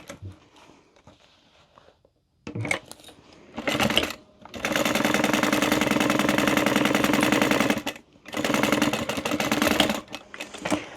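A sewing machine stitches a seam through fabric pieces placed right sides together for a wristlet, running close and loud in three bursts: a short run, a long steady stretch, then another run after a brief pause.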